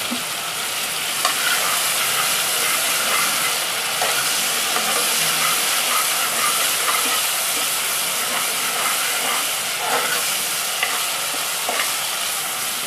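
Garlic frying in oil in a pan for mutton achari, a steady loud sizzle with occasional scraping stirs, heard close and alone for the whole stretch.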